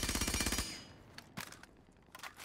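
Automatic weapon gunfire in the video game Rainbow Six Siege: a loud, rapid burst of roughly ten shots in under a second that cuts off abruptly, followed by quieter scattered clicks and impact sounds, with no talking.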